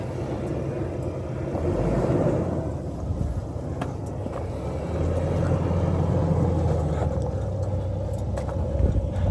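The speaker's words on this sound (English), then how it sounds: "You can hear the four-cylinder working." Low, labouring four-cylinder engine rumble of a 2019 Ford Ranger truck climbing ledges off-road, steady throughout with wind buffeting the microphone.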